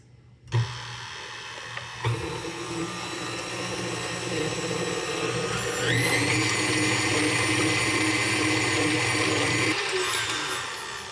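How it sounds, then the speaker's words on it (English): Stand mixer with whisk attachment whisking egg whites for royal icing, starting with a couple of clunks, then a steady loud motor whir that rises in pitch and intensity as it speeds up, running alone without talk. "we're going to use our whisk attachment for this part, and we'll just whisk it for about 30 seconds"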